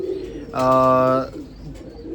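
A single pigeon coos once, close and clear, a short throaty call lasting under a second over quiet background noise.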